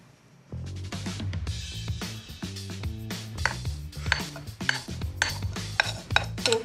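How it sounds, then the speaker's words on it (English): Milk and sorghum stirred into Christmas cookie dough in a bowl, heard as close, irregular clinks and knocks of a utensil against the dish amid soft thuds, with no talking. "we're gonna add our milk sorghum situation and stir that in"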